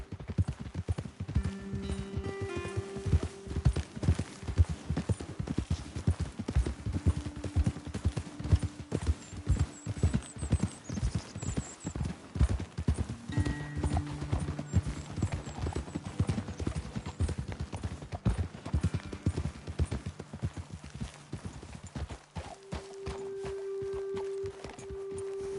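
Horses' hooves clip-clop steadily on a trail in Red Dead Redemption 2, a dense, continuous rhythm of close hoofbeats lasting most of the stretch, with low tonal game sounds and brief voices beneath, easing off near the end.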